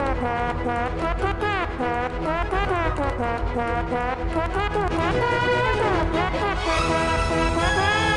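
Trombone played badly in the video game Trombone Champ: loud, continuous wavering brass tones with sliding pitch bends and sour notes over a backing tune, with no talking.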